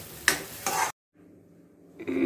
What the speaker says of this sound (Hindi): इसको तेल में और पकाएंगे मसाले को।